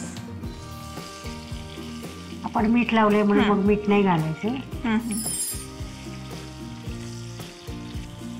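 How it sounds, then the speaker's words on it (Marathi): Green chillies hit a hot Marathi-style tempering of oil, asafoetida and sesame, giving a loud burst of sizzling and spattering in the middle. Someone talks over the quieter frying before and after. "तर फोडणी आता मिरची घालायच्या."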